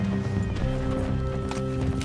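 Rapid hoofbeats of a galloping horse in Red Dead Redemption 2 pound in a steady rhythm, with a low musical drone underneath.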